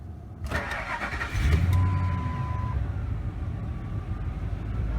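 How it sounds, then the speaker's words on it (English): A 2001 Ford F250 Super Duty flatbed with the 5.4 engine and 184,000 miles cranks briefly and catches, settling into a low, steady idle rumble, with a faint electronic chime sounding as it starts. "Starts up and runs all the time"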